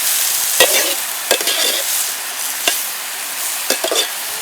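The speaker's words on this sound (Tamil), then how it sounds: "நல்லா பொன்னிறமாக வர்ற வரைக்கும் வணக்கணும்." Pallipalayam chicken sautés in a pan until golden, a close sizzling hiss punctuated by several sharp scrapes and clacks of a spoon stirring against the pan, with no voices.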